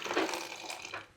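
Water poured over a fish to clean it in a fish business in Kuwait, a short splashing gush that sounds close by, then fades.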